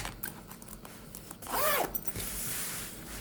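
A zipper pouch inside a planner tote is unzipped in one quick rasping pull, close and fairly quiet, against a faint room background.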